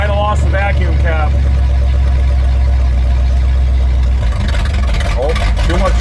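Barn-find old Lincoln car engine running with too much choke, idling fast and loud in a steady continuous drone close by, with someone talking over it.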